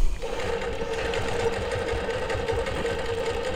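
A longarm quilting machine stitching ruler-guided Baptist fan rows hums steadily, with a sustained mid-pitched motor drone and rapid needle chatter running evenly throughout, close and alone with no talking.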